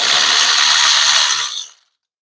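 An impact gun fitted with a 12mm socket rattles hard and continuously on an alternator bolt of a Holden VE SS with an LS2 Gen3 V8, loud and close, then cuts off abruptly.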